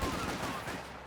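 A dense burst of automatic gunfire in the real-time strategy game Company of Heroes 2, a loud continuous rattle of shots lasting about a second, with a hint of voice underneath.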